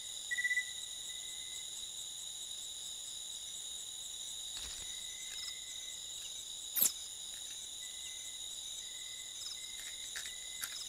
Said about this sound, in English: a mother will bring back a live cricket